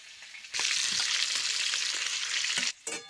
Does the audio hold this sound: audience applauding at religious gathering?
no